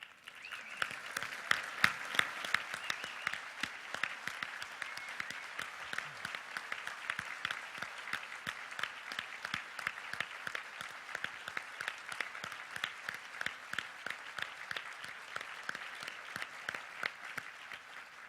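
A large conference audience at Lotusphere 2006 applauds award winners and finalists with sustained, even clapping that fills the hall for a long stretch, with a faint voice briefly underneath.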